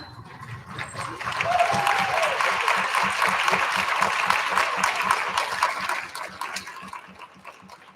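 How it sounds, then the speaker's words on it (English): At a school student recognition ceremony, a roomful of people applauds students receiving attendance awards; the clapping swells in quickly, stays full and even for several seconds, then tapers away, with some talk mixed in. "can you please stand so that we can give you a round of applause?"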